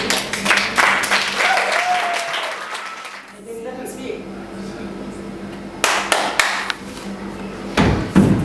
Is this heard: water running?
no